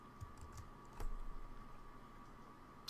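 Quiet keyboard typing of code, a few soft scattered keystrokes with one slightly louder tap, against a low background hum.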